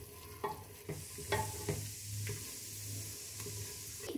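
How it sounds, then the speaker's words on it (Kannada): Biryani masala powder frying on a low flame, a soft steady sizzle with repeated spatula scrapes and knocks against the pan at uneven intervals, close and alone. "ಈ ಮಸಾಲನ ಹಾಕ್ಕೊಂಡು ನೀಟಾಗಿ ಮಿಕ್ಸ್ ಮಾಡ್ಕೊಳ್ಳಿ."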